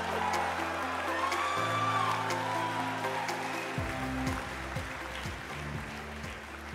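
An audience applauds steadily as a speaker is welcomed to the stage at a formal event, a dense continuous patter of many hands heard from a distance while a low hum sits underneath.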